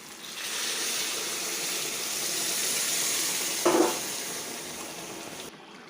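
Chicken curry simmering after broth has been added, giving a steady soft hiss and bubbling that swells slightly and carries a brief louder sputter before stopping abruptly.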